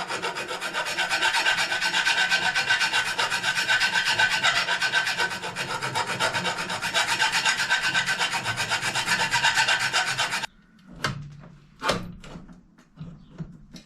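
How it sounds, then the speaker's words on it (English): Hand file rasping steadily on the metal dropouts of a 20-inch Walmart BMX bicycle frame during an ebike conversion, enlarged to fit a new hub. Close, loud, continuous strokes for about ten seconds, then a few separate scrapes. "So I got to file these down a little bit. Not much, but file them so they'll accept the new hub."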